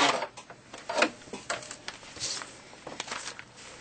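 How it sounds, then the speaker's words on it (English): A sewing machine stitching fabric along a marked line for a paper-pieced snowball quilt block, heard close as short uneven bursts of rapid stitching. "I'm going to sew on that line. Taking a stitch or two past the line"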